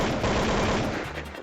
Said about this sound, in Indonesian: Kemudian terdengar rentetan tembakan.